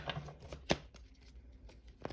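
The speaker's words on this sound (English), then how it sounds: "We'll do one last shuffle here" Tarot cards being shuffled in short riffling bursts, with one sharper snap partway through, close up and otherwise quiet.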